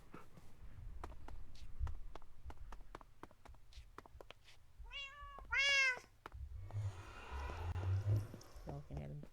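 A pet cat meows several times up close, rising, drawn-out calls over faint tapping and scuffling, with a person talking nearby.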